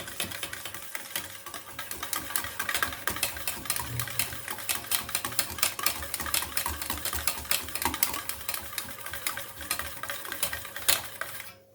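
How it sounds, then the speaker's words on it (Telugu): A buttermilk mixture with turmeric is whisked for a South Indian majjiga pulusu, producing rapid, continuous clicking and tapping of a whisk against the bowl, close and steady throughout with no speech. "ఇప్పుడు ఇవన్నీ కలిసేలాగా మంచిగా విస్క్ చేసుకుందాం"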